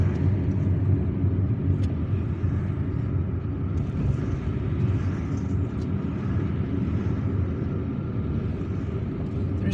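A car driving through the streets of Algiers, its engine and road noise forming a steady, loud, close rumble that continues throughout with no pauses.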